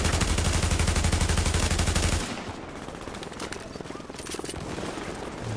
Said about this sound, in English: we got somebody shooting over here